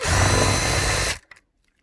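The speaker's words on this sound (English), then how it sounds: "what I do use is one of these countersink tools right here" A countersink tool spins against resin or lacquer around a drilled hole, giving a loud continuous whirring grind for about a second before cutting off abruptly, followed by a faint click.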